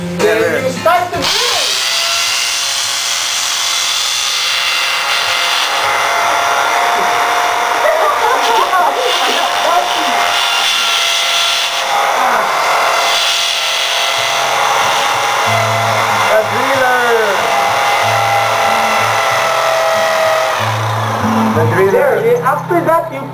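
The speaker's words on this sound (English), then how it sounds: "after you drill the hole, you put that orange thing" An electric drill bores a hole in a wall for mounting a curtain, whining loudly and steadily for most of the stretch, with people talking close by.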